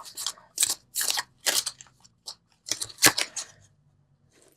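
Oracle cards are shuffled and pulled by hand in close, crisp bursts of papery snapping and flicking, with quiet gaps between them and no talk.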